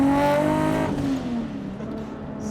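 A 1,200 hp Mk4 Toyota Supra on 10 psi of boost and half throttle makes a loud, close second-gear pull, its engine note climbing steadily in pitch before it eases off with no talk over it.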